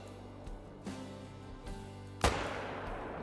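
Rifle shots in the hunting game Call of the Wild as a doe is brought down: a few soft, spaced low thumps, then one sharper, louder crack near the end followed by a lingering rumble, with no talk.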